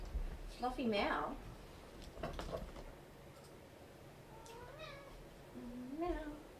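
A pet cat meows a few times in an indoor room, the calls close and moderately loud, separated by pauses, while a person talks nearby.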